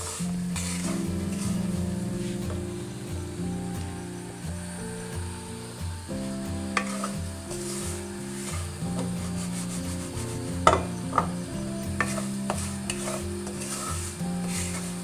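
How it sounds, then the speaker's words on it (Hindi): Egg halwa with semolina being stirred slowly with a spoon in a pan, a continuous scraping and rubbing over a low sizzle with occasional clinks of the spoon, close and fairly loud, no voices. "आहिस्ता आहिस्ता आप चम्मच इसके अंदर हिलाते रहिए"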